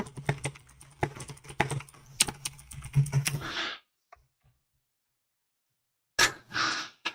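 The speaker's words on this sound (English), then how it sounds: "The keyboard clicks originally didn't happen with mine until I got a mechanical keyboard." A mechanical keyboard clatters with quick irregular clicks and keystrokes for several seconds, close to the mic, with a breath at the end of the burst. After a near-silent pause, a short breathy noise follows.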